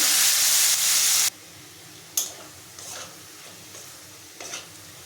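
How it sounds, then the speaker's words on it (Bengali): Chopped onion, whole garam masala and bay leaf fry in oil with a teaspoon of ghee: a loud, close sizzle that cuts off abruptly, followed by a few quieter stirring scrapes and clinks. "ওই তেলের মধ্যে 1 চা চামচ ঘি দিয়ে দিলাম, গোটা গরম মশলা, তেজপাতা, পেঁয়াজ কুচি"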